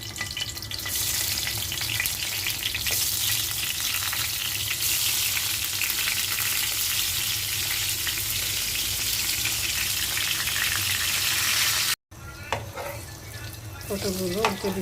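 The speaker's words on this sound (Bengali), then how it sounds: "পটলগুলো ভেজে নিচ্ছি।" Pointed gourd (potol) slices fry in hot oil with a loud, dense, continuous sizzle. It cuts off abruptly and then resumes more quietly, with some clinking and a brief voice.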